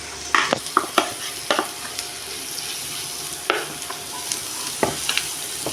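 A spoon stirs a paneer masala mixture of ginger and garlic frying in butter in a pan, giving a steady sizzle broken by repeated scraping clinks close by.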